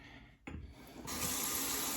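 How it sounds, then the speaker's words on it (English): Cold water from a tap running into a shaving bowl, starting with a brief splash and then a steady rushing pour that grows fuller and louder, close by with no voices. "Get some nice cold water. Get it in my bowl."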